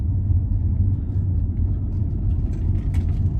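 Tesla on FSD Beta 11.3.4 accelerates out of a roundabout, heard from inside the cabin as a steady low road rumble and muted drive hum with no voices.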